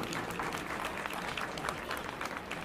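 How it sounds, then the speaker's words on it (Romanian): Wedding guests applaud steadily at a Romanian wedding celebration, a dense, continuous clapping from a crowd with no breaks. "Haideți să-i aplaudăm pe Cristina și Dănuț"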